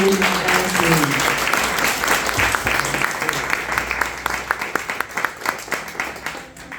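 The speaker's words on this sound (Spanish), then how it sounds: "quisiera pedirles por favor un fuerte aplauso para el padre Hugo." An audience at a gathering of master's students applauds Father Hugo, a full round of clapping that starts loud and thins out toward the end, with a few voices mixed in.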